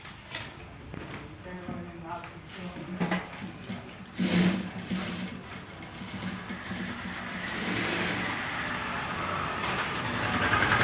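A sewing machine stitching the shoulder seam of a blouse runs as a steady, close, continuous mechanical whir that grows slightly louder toward the end, with no pauses.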